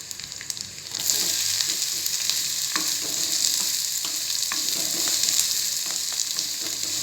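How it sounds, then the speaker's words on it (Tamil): Onion sizzling and frying in hot oil with garlic in a pan for a restaurant-style creamy mushroom soup, a steady loud hiss starting after the first second, with occasional spoon scrapes and stirring clicks. "ஆனியன் நல்லா வதங்கி வரட்டும்"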